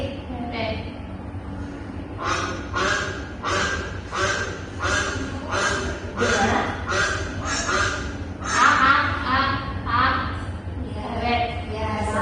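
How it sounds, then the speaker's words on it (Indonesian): A duck quacks again and again in a steady, fairly loud series of nasal calls, bunched into quick runs of bursts that carry on for several seconds with hardly a pause. "ini suara bebek."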